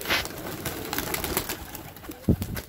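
A flock of pigeons settles onto a rooftop loft, a brief burst of flapping wings and scattered soft coos heard close by, with no talking.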